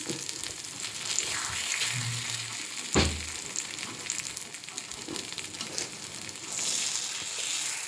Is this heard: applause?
no